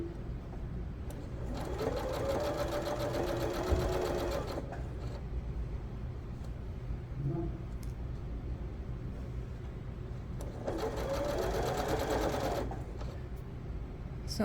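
A sewing machine stitches the curved seam of pajama pants in two runs of steady whirring, a quiet gap between them over low room hum.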